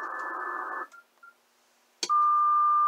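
Harmonic of a Knight T-50 transmitter picked up on the 20 meter band, a buzzy radio tone that cuts out, a click, then a steady pure whistle-like carrier.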